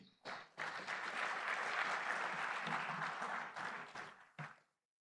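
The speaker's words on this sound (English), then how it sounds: "Another big hand of applause to my colleagues." A medical college graduation dinner and awards ceremony fills with applause: a brief start, then a full, sustained burst of many hands clapping that thins to scattered claps before stopping.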